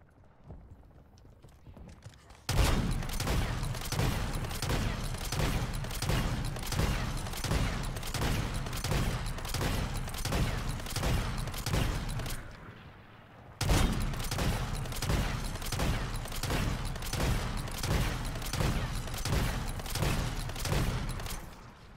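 An RPK light machine gun in the video game MW3 Zombies fires two long sustained bursts of rapid, evenly spaced loud shots, with a short break between them and a quieter lead-in before the first.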